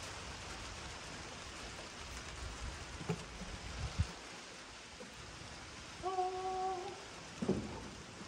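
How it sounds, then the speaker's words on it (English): Rain falls outdoors beside a 1967 Ford F100 truck as it is being worked on, a steady soft broadband hiss with a few nearby knocks and thumps, and no voices. "Starting to rain."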